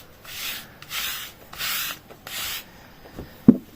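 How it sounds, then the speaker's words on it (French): Bristly pet-hair brush swept repeatedly across clothing fabric, four steady rubbing strokes close up with short pauses between, then a single sharp tap near the end; no voices. "quand vous passez du coup la brosse, comme ça, en fait, ça remonte les poils et ça accroche les poils"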